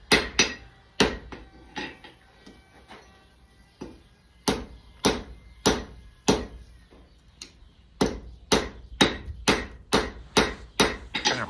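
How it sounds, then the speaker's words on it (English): Hammer taps on iron at forge welding heat while making a scrolled candle holder, sharp ringing metallic strikes, close and fairly light, irregular at first and then quicker, evenly spaced blows. "here's the first welding heat I did, just giving a few lighter taps to it"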